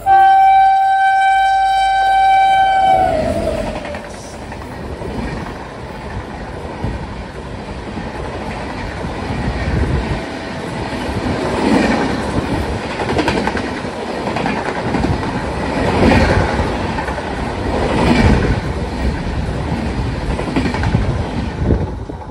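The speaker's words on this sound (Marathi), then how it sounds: "नुकतीच क्रॉस झाली मडगाव राजधानी एक्सप्रेस" A passenger train rides while the Madgaon Rajdhani Express passes on the adjacent line at a crossing station in the Konkan region. A brief horn opens, then a loud, sustained rumble and rattle of rolling wagons with rhythmic wheel clatter continues throughout.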